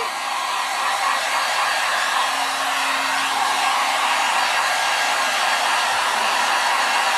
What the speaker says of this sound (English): I'm just taking my heat tool and just kind of drying this up just a tad